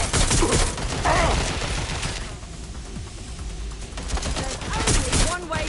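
Gunfire rattles through a PS4 shooter game in dense, loud bursts, most heavily at the start and again toward the end, with a quieter stretch in between.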